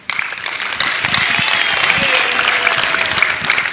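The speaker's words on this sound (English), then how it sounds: "let's give a big clap to our 7 great presenters or pitchers." A room full of people breaks into loud, sustained applause, steady clapping that continues without letup.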